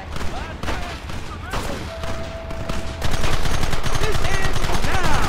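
Rapid, sustained gunfire from a Red Dead Redemption shootout, with dense overlapping rifle and pistol shots that grow louder and more continuous in the second half, plus scattered game voices in the mix.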